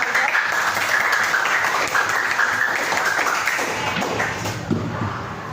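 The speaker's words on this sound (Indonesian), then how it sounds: "Oke, tepuk tangan" Students in an Islamic religious education classroom clap together on the teacher's cue, a dense, continuous patter of hands with some thumps, fairly close and with no talk over it.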